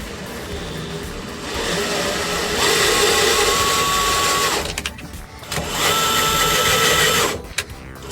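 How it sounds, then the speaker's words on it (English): Handheld drill chasing threads to clean paint out during repair work on a 1956 VW Beetle, whining in two sustained bursts of several seconds each with brief pauses between, close and fairly loud. "Ordinarily, I would not use a drill to thread anything, but since we're just cleaning paint out,"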